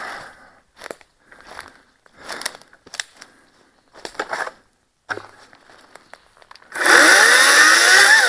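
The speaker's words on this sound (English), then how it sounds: "I continue to be impressed with the Ryobi chainsaw." Ryobi 40-volt 14-inch brushless chainsaw in the woods: a series of short crunchy and clacking sounds, then the saw bursts into a loud, sustained whine near the end.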